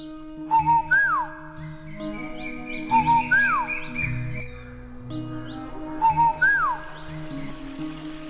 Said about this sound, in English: there lived in China a little nightingale who sang beautifully